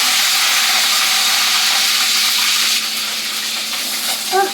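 Whole spices spluttering in hot oil in a pan before curry leaves go in, a loud continuous crackling hiss that eases slightly toward the end.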